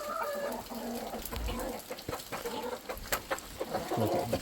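Several chickens cluck and squawk close by while being shut into their coop, the calls overlapping in a busy, restless chorus with scattered thumps and rustling.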